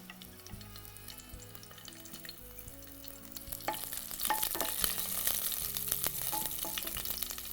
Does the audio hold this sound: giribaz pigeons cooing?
no